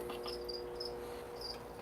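Feeder crickets chirp in short, repeated bursts, faint and steady over a low background hum.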